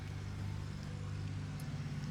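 Steady low road traffic noise carries across an open house lot in a Celina, Texas neighborhood near construction, a continuous muffled rumble of passing vehicles at moderate distance with no talk.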